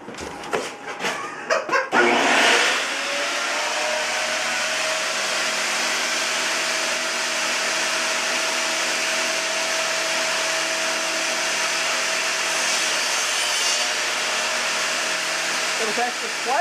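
Table saw cutting through wood, a loud continuous whining drone that starts after a few sharp knocks and holds steady for about fourteen seconds before tailing off.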